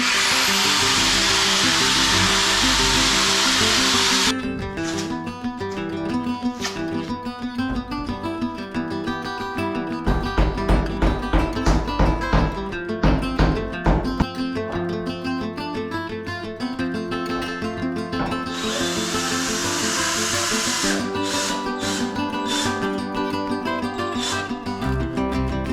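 A power drill boring holes during a bathroom sink installation, loud and close, with long whining runs broken by a burst of short stuttering pulses, then more sustained drilling.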